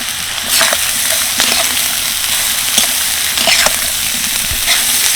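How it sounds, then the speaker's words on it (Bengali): Carrots, beans and cabbage fry in white oil in a wok with a loud, continuous sizzle. Several sharp spatula strokes scrape through them at uneven intervals, close up and without talk. "তো এই সবজিগুলোকে এবার আমি হালকা করে ফ্রাই করে নেব তার জন্য কড়াইতে দিয়ে দিচ্ছি সাদা তেল"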